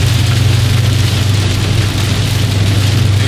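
Rain falls on a Mopar SRT car while it is being driven, making a dense, steady hiss over a low, constant engine drone. Nobody speaks.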